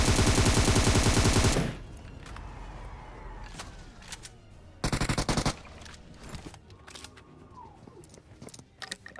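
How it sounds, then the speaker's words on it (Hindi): Gunfire in the BGMI video game: a loud rapid automatic burst at the start, then another short burst midway, with scattered single shots and game noises in between. "जाते जाते मैं ऐसी गोली चलाते हुए जाता हूँ"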